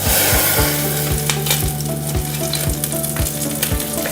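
A teriyaki apricot pineapple glaze bubbles and sizzles in a pan as it thickens, with a steady close frying hiss, regular stirring scrapes and no speech.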